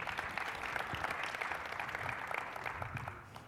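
Audience at a security conference talk applauding to welcome the speaker, steady clapping from a modest crowd over a few seconds, fairly distant and even.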